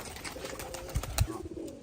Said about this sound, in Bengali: কবুতর দেখছেন, অনেকগুলা কবুতর, 50 পিস কবুতর